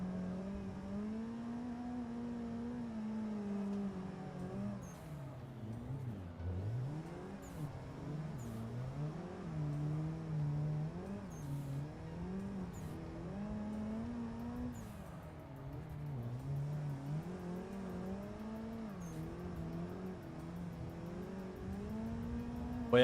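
A quiet street car engine drones and revs in wavering cycles during amateur drifting, its pitch rising and falling repeatedly at moderate distance with no talking.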